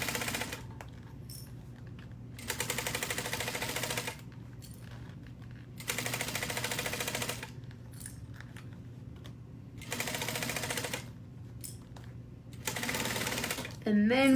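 A sewing machine stitches a bag in repeated bursts of about a second and a half each, separated by short pauses, close and fairly loud, with a low background hum.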